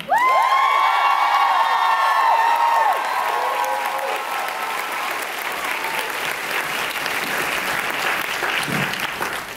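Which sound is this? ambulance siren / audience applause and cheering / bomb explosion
audience applause and cheering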